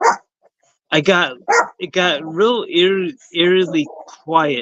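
A pet dog barks and yips in short bursts that rise and fall, close to the microphone, over and between a man's speech in a quiet room.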